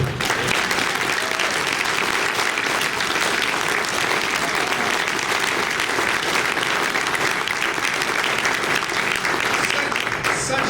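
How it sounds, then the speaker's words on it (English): Sustained applause from a large audience at a congressional district political caucus, steady and loud throughout, with no pauses. "I think we owe Norm Dix a round of applause for continuing to move us forward."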